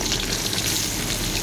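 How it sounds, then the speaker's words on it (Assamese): Small bahpatia fish rubbed with turmeric and salt fry in hot oil in a kadai (wok). A steady, close sizzle and hiss runs without a break and no one speaks. "অকণমান ভাজি লওঁ।"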